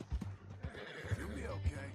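A horse in the video game Red Dead Redemption 2 whinnies in short bursts over clip-clopping hooves, close and fairly quiet, with a voice talking alongside.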